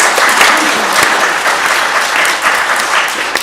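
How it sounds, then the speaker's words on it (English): Steady, loud applause from a conference audience thanking a panel, dense and continuous clapping filling the whole stretch without speech. "If you can give them a round of applause."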